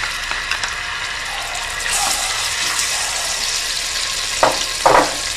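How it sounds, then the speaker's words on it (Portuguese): Crushed garlic sizzles in hot oil as the base for a bean stew with pumpkin and pork ribs, a steady close hiss with a couple of brief louder spatters near the end, no talk. "Vou colocar o óleo, o alho triturado"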